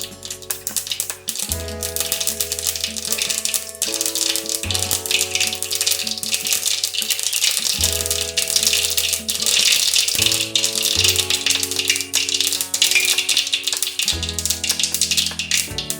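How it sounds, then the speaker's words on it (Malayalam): Mustard seeds splutter and pop in hot oil for a bitter gourd curry, a dense, rattling crackle that runs continuously, with kitchen hum underneath and no talking. "ചൂടായിട്ടുണ്ട്, അതിനകത്തേക്ക് നമുക്ക് കടുക് ഇടാം"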